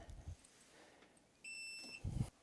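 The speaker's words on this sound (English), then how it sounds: "Once you hear the beep" A eufy C210 (E110) smart lock gives a single steady electronic beep of about half a second while syncing, clear but fairly quiet in a hushed room, with soft handling bumps around it.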